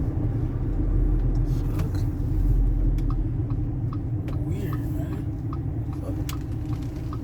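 A car rolls slowly past on a nearby road, a steady low rumble that swells and fades, with a voice heard faintly under it.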